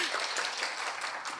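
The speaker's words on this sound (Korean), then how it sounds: "박수." Brief, faint applause from a university audience for a lecturer, a dense patter of many hands clapping in a hall for just over a second.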